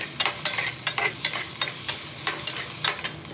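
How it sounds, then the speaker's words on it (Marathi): Wet soybeans roast in a little oil in a pan, with quick regular stirring scrapes about three times a second over a light sizzle, close and alone. "थोडंसं तेल घालून भाजू ह्याला म्हणजे ते खाली चिटकणार नाही"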